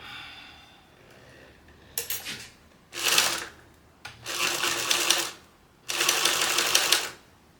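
Sewing machine stitching a small fringe purse, running in three short bursts of steady whirring with quiet pauses between, close and moderately loud.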